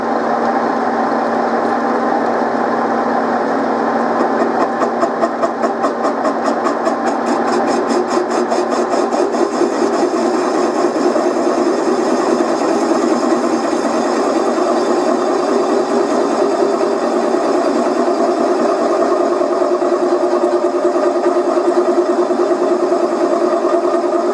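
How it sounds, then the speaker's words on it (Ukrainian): Boring the front beam of a T-40 tractor on a machine: a steady grinding, whirring cut with a faint rapid ratcheting chatter, running unbroken and fairly loud for the whole stretch with no talk. "Продовжуємо розточку далі."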